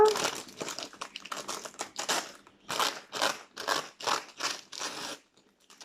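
Small scissors snip through a little bunch of tiny flowers, a series of short crisp cuts and rustles in an irregular rhythm, close and fairly quiet.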